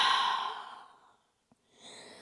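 A long, deep exhalation during yoga breathing, airy and close, fading out slowly, followed by a short pause, a small click and the start of another soft breath.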